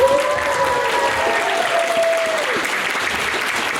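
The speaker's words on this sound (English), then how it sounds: "let's give him one more round of applause" An audience at a live drawing convention event claps steadily in a sustained round of applause, with a brief voice heard early over the clapping.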